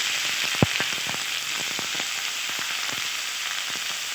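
Garlic paste frying in hot oil with whole cumin, cardamom and cinnamon, a bright continuous sizzle with scattered sharp pops and spits, one louder crack near the start.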